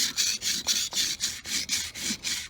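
A knife is stroked back and forth on a wet stone in even, repeated rasping scrapes, close and clear with no talk.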